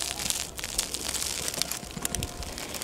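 A black widow spider's web, stuck to a stone, gives a dry, continuous crackling and crinkling as the stone is pulled away, up close and alone.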